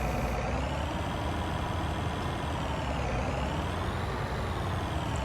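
Combine harvester unloading grain into a trailer in a farming game, a steady, loud engine and auger drone that holds unchanged throughout with no talk.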